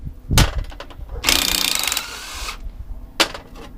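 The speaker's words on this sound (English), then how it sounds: "So I'll start on taking the cylinder end cap off." Bolts are worked off the cylinder end cap of an Ajax Myers 1 1/2" piston pump: sharp metallic clanks and knocks, then a rough buzzing burst of a power tool for under a second, followed by another loud clank.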